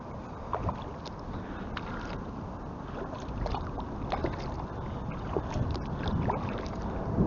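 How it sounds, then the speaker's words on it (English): A motorboat comes up from behind a kayak on the Rideau River in Ottawa, its engine a faint, broad rumble beneath steady water splashing and light wind buffeting throughout. "I can hear a boat coming up behind us."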